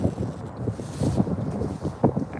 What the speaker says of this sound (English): Too much dang wind.